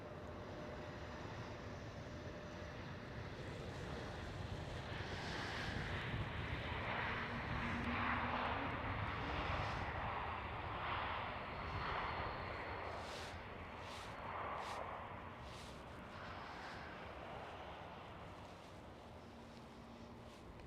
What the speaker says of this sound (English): Right over here, KLM Cityhopper E195E2.